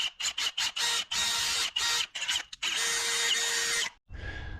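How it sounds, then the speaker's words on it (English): A skinny Christmas tree bit drills out a stuck insert on a vintage bike, heard as close, loud bursts of power drill whine starting and stopping in quick pulses, then one longer sustained run before it cuts off. "I'm just going to use a skinny Christmas tree bit, and see if I can just drill it out"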